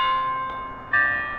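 Bells ringing at noon along a city street in Carlsbad, New Mexico, with sustained tones that swell, dip and then strike again partway through, ringing out over faint outdoor background.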